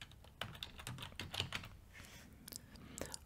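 Computer keyboard typing, a quick run of light, uneven key clicks close by, entering a search term in business software, with no talking.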